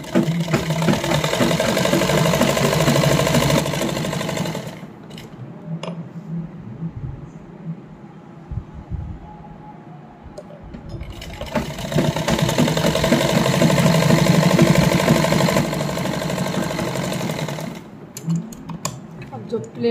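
A sewing machine stitches a salwar in two long continuous runs of steady mechanical whirring, separated by a quieter pause with faint handling noises.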